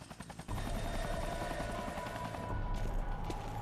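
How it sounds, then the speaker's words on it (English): A helicopter in the Devil May Cry 2 video game roars in after a few short bursts, a dense continuous rotor and engine drone that stays loud and steady, with no talk. "The helicopter. Gotta go after it."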